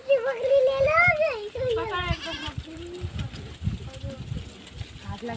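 Goats bleat in a village in Dewas district, one loud, wavering cry up close at the start followed by shorter bleats, while people and children talk and move around nearby.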